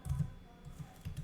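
Soft, quick keyboard tapping in a short burst of irregular clicks, close by and quiet, with no voices.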